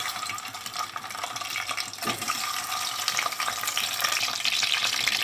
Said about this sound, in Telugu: మూడు చెంచాలు ఆయిల్ వేసుకున్నా ఎగ్స్ బాయిల్ మంచి ఫ్రై చేసుకోవాలి